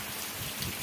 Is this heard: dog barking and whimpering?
no